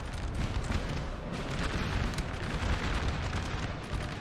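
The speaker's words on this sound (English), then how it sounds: "the artillery is keeping them alive with a canister constantly firing" Canister-firing artillery on a Napoleon Total War battlefield: a dense, continuous rumble of booms and crackling volleys, loud and unbroken, with many guns and muskets blending together and no talking.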